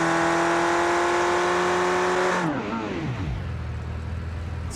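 A BeamNG video game car engine idles steadily with strong harmonic tones, then is switched off, its pitch sliding down as it winds to a stop, leaving a quieter residual hum.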